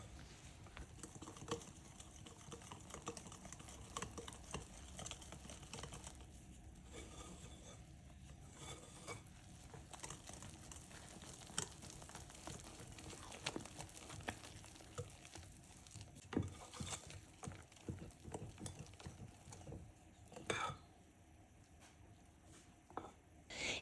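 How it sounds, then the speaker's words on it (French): A whisk beats yogurt apple cake batter in a bowl, giving quick irregular clicks and soft wet patter against the sides, steady for the whole stretch with brief pauses near the end. "je mélange au fouet juste ce qu'il faut pour obtenir une pâte lisse"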